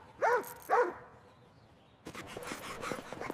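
A dog barks twice in quick succession at a thief, sharp and fairly close, then falls quiet before a rougher, noisier stretch of scuffling and movement follows.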